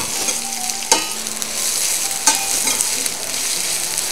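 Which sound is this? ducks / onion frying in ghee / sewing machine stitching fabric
onion frying in ghee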